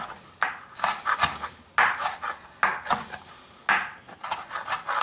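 Repeated knife strokes on a cutting board as a red onion is chopped into small pieces, irregular crisp chops and scraping rubs close up, with no talk over them.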